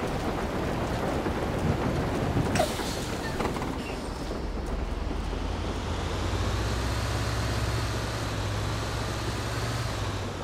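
Heavy rain with a rumble of thunder in GTA V while driving a Caio city bus around Los Santos: constant hiss of rainfall, a sharp crack near the start, then a low rolling rumble sustained under the downpour.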